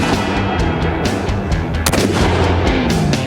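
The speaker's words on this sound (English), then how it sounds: "the bullets were definitely hitting it" Gunfire on a shooting range aimed at a car's gas tank, a rapid run of loud, reverberant shots with one especially sharp crack, no voices.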